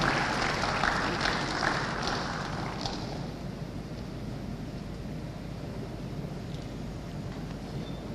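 Audience applause for Permanent Secretary Dr. Mary A. Ogbe at a South East venture capital programme event in Enugu, a steady broad wash of clapping that swells early and then settles into a softer, sustained patter throughout.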